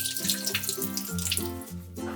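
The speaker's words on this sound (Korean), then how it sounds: "체에 받쳐서 흐르는 물에 씻어주세요" Fresh kalguksu noodles are rinsed in a sieve under a running tap, a steady splashing wash of water that continues throughout, with tonal background music playing underneath.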